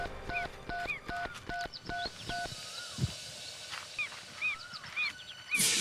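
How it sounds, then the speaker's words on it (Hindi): A phone dials a number, giving a quick run of evenly spaced short tones that stop after about two seconds. Scattered honk-like tonal sounds follow over a faint, noisy background. "मैं तन्वी का नंबर फिर से ट्राई करता हूँ।"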